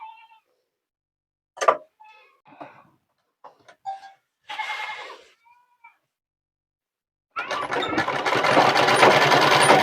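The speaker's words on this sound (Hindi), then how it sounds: "तो स्लीव को अभी हम कलाई के पास में मोड़कर सिलाई कर लेते हैं।" A scattering of soft knocks and clicks gives way to an electric sewing machine that starts running steadily and loudly near the end, stitching the folded wrist hem of a nurse's uniform sleeve.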